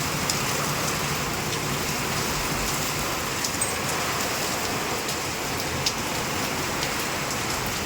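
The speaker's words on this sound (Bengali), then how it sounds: "হঠাৎ করেই বৃষ্টি শুরু হয়েছে।" Steady rain pours down outside during a sudden afternoon storm with wind, a dense continuous hiss of drops striking surfaces, fairly close and even throughout with no voices.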